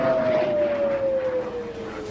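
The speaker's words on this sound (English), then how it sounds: "Explosions lit Israel's night sky and air raid sirens blared." Air raid siren wailing over Israel during a nighttime Iranian strike, a single loud steady tone slowly falling in pitch across the whole stretch, with dense rumbling noise beneath it.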